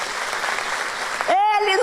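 A church congregation applauds in a brief burst of clapping that cuts off as a loud voice rings out over it.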